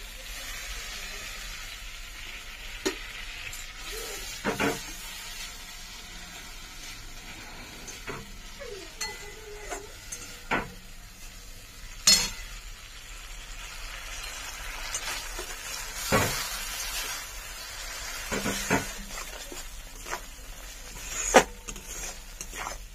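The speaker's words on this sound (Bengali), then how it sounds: "মশলাটা খুব সুন্দর করে কষে নেব" Masala for egg tehari is stirred and fried in a pan with a splash of water. Quiet, close spatula scrapes and sharp clinks recur irregularly over a soft sizzle.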